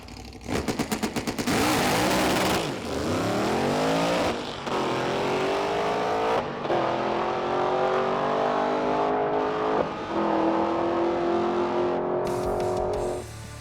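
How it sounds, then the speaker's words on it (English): A 1970 Dodge Super Bee muscle car making a drag strip pass, opening with sharp stuttering bursts, then a loud engine howl climbing through several gear changes and holding near and steady to the end. "I'd like to make one more pass, at least down the drag strip, to find out, where we're at in terms of this car's performance"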